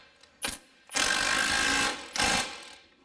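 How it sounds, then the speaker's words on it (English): Ratchet wrench tightening the bottom rear shock bolt on a Jeep Wrangler during a rear shock replacement, giving a short burst and then two longer bursts of close, loud, rasping clicks with no talk. "now it's time to tighten up our bottom bolt"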